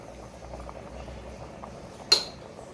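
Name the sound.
mutton boiling in a pot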